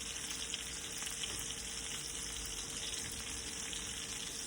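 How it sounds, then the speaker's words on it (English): A stuffed ribeye steak frying in butter, giving a constant, even sizzle that stays fairly quiet and close throughout, with no voices. "I cook it down in the butter"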